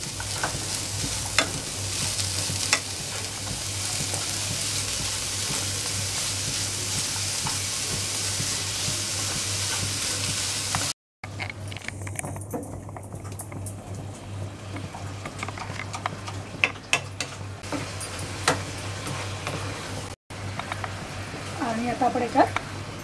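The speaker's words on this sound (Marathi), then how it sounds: "ह्याला आपण आता छान मिक्स करून घेणार आहोत." A cup of jaggery stirred into coconut rice in a pan for sweet narali bhat, giving a steady, close scraping and sizzling churn that runs throughout with a brief break midway.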